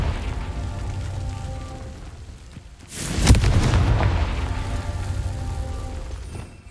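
A Confringo fire spell from the Hogwarts Legacy video game bursts with a loud, booming blast that rumbles and crackles for several seconds before settling into a steady background roar, with no talk over it.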